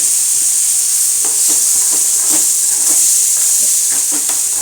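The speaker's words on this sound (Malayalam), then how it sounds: "നല്ലോണം ചൂടായിട്ടുണ്ട്. അതിലേക്ക് നമ്മൾ ഈ അരച്ച് വെച്ച തക്കാളി, സബോള ഒക്കെ കൂടെ ചേർത്ത്" Ground tomato and onion paste hitting hot oil in a pan for a lentil curry, giving a loud, steady sizzling hiss throughout with light crackling pops and stirring scrapes.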